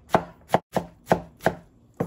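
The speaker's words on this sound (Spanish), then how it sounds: "Y vamos a seguir picando." Fruit being chopped with a knife on a cutting board while making gazpacho moreliano: six crisp, evenly spaced knife strikes in a quick rhythm, close and clear, with no talking.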